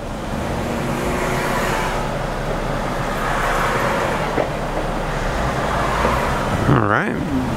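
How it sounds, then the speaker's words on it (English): A 2001 Lexus RX300 with a V6 engine drives down the road, its steady engine and road noise continuous and fairly loud throughout, with a brief rising whine near the end. "Wow, that little V6 is strong."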